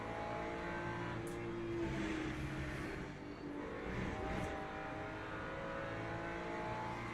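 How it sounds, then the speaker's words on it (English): Race car in the Le Mans Ultimate sim racing game during an LMGT3 championship race at Le Mans, engine note dropping under heavy braking among other cars, a steady loud roar with shifting harmonic tones throughout. "Some heavy braking going on here."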